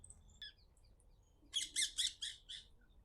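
Peacocks and parrots calling at a plant nursery in Jaipur: a faint brief call early on, then a burst of five or six loud, harsh squawks in quick succession.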